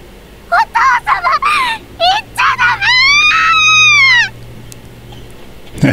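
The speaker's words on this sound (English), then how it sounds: "And in front of that spectacle, tearing her throat with a scream is Fia." A female character in the video game Amayui: Castle Meister screams, first in several short, sharp shrieking bursts, then in one long, loud, drawn-out wail before it cuts off.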